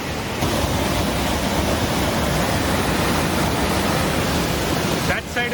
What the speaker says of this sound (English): That side is the waterfall.